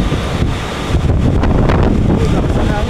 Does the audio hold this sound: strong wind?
yes